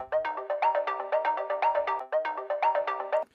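A bright, tonal electronic drum loop on a Roland SPD-SX Pro pulses in a steady repeating pattern, its harmonics swept and shaped by the pad's super filter effect; no voices.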